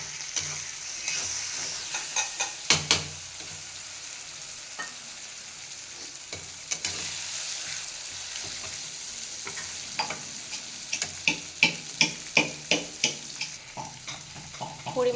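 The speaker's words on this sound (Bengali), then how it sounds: "এখানের মতো কড়াইয়ের মধ্যে চলে গেছে তোমার টমেটো।" Tomatoes frying in a kadai for a spiced potato dish, with a constant sizzle and repeated scraping stir strokes that grow quicker and more rhythmic toward the end, close up and without talk.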